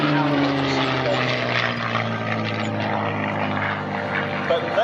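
A P-51C Mustang propeller fighter at an airshow drones steadily and loudly throughout, its engine hum holding constant with a buzzing tone, and people may be talking underneath.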